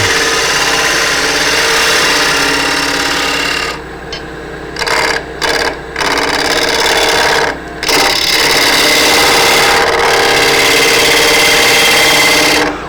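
A gouge cuts wood on a lathe while a quaiche bowl is turned, a loud continuous rasping, whirring shear broken by several short pauses where the tool lifts off, then steady cutting resumes to the end.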